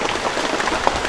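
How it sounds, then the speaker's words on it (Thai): Steady rain falls on a forest campsite during the rainy season, a dense, continuous patter of drops on leaves and surfaces, fairly loud and close, with no voices. "บรรยากาศตอนนี้ก็ฝนตกอยู่"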